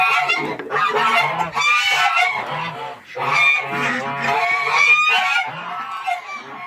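A flock of farmyard geese honks loudly and nearby on a winter morning, overlapping calls in rapid, continuous bursts with brief dips, no talking.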